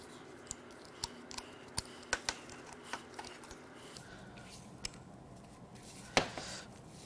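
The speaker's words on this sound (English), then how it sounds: "we're going to cut this filter open" A car oil filter from a 1.6L EcoBoost engine being cut open with a hand tool, giving sparse sharp metallic clicks and snips spaced irregularly, close by and moderately loud over a steady background, with a louder scrape near the end.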